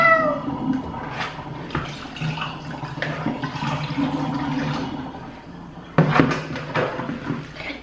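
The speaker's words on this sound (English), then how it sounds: "I'm gonna let this water out" Water drains out of a container where strawberries had been soaking, a gurgling, swirling rush with a loud surge near the end, steady and close with no talk.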